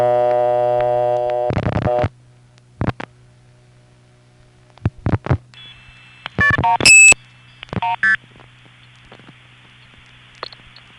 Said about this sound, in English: it causes that little MF sender to stutter